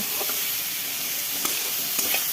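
Egg curry sizzles steadily in a pan as it reduces, a dense close hiss with a few faint spoon taps.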